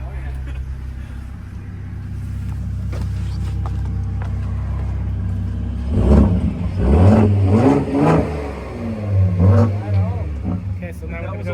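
A Ford Raptor truck's engine idles with a low rumble, then revs in several deep surges before settling back, while people talk nearby over it.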